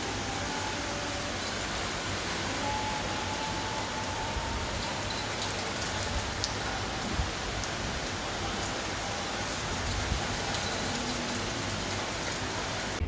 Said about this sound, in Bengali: আবার এখন কি সুন্দর বৃষ্টি হচ্ছে।